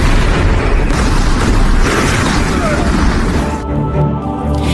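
A house blowing up in an action film, heard as a loud, sustained roaring blast with rumbling debris that fills the whole stretch before cutting off abruptly.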